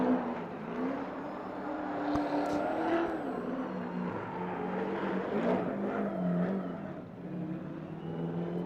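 A BMW E90 drift car revs and bounces off the limiter mid-drift at a speedway competition, engine pitch rising and falling in repeated surges, heard from a moderate distance.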